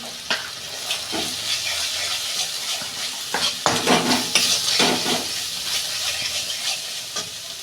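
Turmeric and cumin powder sizzle and fry in a pan for a catla fish curry while a spoon stirs and scrapes with repeated clinks, a steady frying hiss under the stirring and no talking.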